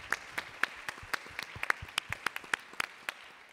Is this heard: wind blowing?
no